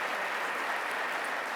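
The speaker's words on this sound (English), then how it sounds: "She deserves that applause" An audience claps for the mayor at a civic awards event, dense and steady with no gaps, a broad wash of many hands heard from within the room.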